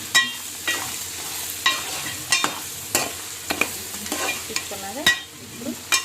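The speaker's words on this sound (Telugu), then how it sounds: "కర్రీ మొత్తం ఒకసారి తిప్పుకోండి." Meat bones curry stirred in a pan: repeated spoon scrapes and knocks against the metal in an uneven rhythm over a low sizzle, close and clear with no talk.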